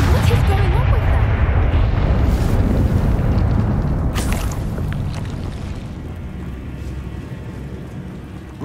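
A Confringo spell in Hogwarts Legacy sets off a heavy, rumbling blast with crackling debris under dense game effects, fading into a softer, steady hiss.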